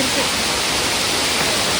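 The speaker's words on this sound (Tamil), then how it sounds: "ஃபால்ஸில் உண்மையே கொஞ்சமாக தான் தண்ணி இருக்குது" Thin, steady rush of a waterfall with only a little water flowing at Kodaikanal, a constant broadband hiss that fills the whole moment without pauses.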